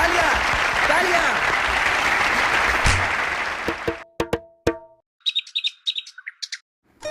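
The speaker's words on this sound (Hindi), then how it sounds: "तालियां तालियां तालियां तालियां तालियां तालियां" Applause from an audience at a comedy skit, a dense burst of clapping that fills the first four seconds. It then breaks into a few scattered sharp claps before fading out, followed by faint chirpy voices.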